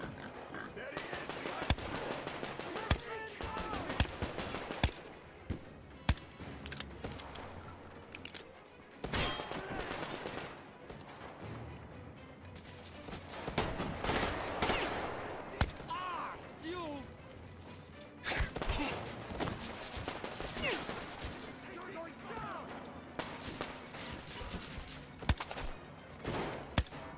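Gunfire in the post-apocalyptic shooter Metro Exodus during a firefight near barges and a tugboat: scattered sharp shots and bursts crackle throughout, mixed with game voices shouting and talk over a busy battle background.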